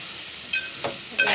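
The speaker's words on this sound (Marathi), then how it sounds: "आता आपण याच्यावर कोबी टाकूया." Cabbage fries on low heat with sautéed onion and tomato, a soft continuous sizzle broken by a few brief scraping stirs of a spoon in the pan, close and fairly quiet.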